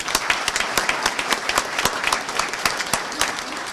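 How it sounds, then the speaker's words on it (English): An audience at a senior center grand opening claps steadily, a brisk patter of many hands with distinct individual claps standing out nearby. "And another round of applause to all of you for making that happen today."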